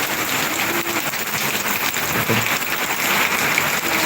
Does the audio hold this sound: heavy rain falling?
yes